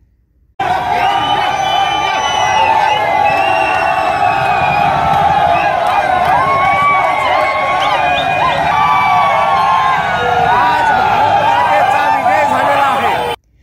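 A street crowd of cricket fans celebrating a Team India win, with waving tricolour flags, a dense roar of cheering, whooping and shouting voices that carries on steadily at close range.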